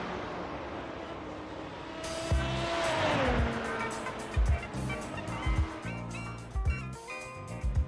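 A race car in the iRacing sim rounds the final turn at Laguna Seca, engine tone sweeping down as it brakes into the corner, then several sharp bursts and tire noise as it accelerates out, loud and close.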